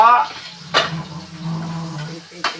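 Utensil scraping and clinking in a pan while onion and garlic are stirred, with a light sizzle underneath and two sharp metallic knocks, one early and one near the end.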